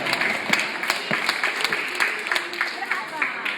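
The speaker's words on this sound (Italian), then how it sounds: "Un applauso anche per Melissa." Applause breaks out for Melissa at an Easter big egg breaking event, with crisp, scattered claps from a modest crowd at moderate distance and some voices mixed in.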